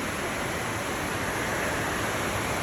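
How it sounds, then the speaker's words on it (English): Heavy rain pouring down outdoors, a dense, constant roar of hiss with no breaks or distinct drops. "it's absolutely pissing down outside."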